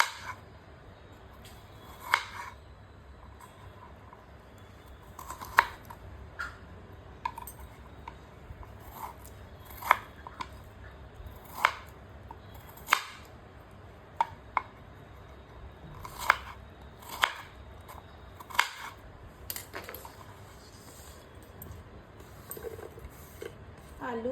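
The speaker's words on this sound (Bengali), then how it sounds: "এবার দুটো আলু একইভাবে গাজরের মতো করে ছোট ছোট করে কেটে নিচ্ছি" Potatoes being cut into small pieces with a knife while preparing a vegetarian spinach curry, giving a steady run of sharp chopping clicks that repeat in an uneven rhythm against a faint room hum.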